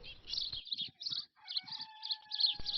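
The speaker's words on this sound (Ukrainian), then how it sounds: "горобець потяг будматеріал у своє гніздо" A sparrow carrying nest material gives a run of bright, quick chirps in short bursts with brief pauses, fairly close and clear against a quiet background.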